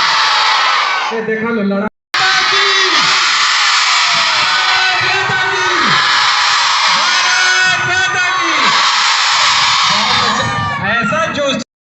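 A group of children shouts loudly and continuously in repeated rising bursts, close and overwhelming, with a brief cutout partway through.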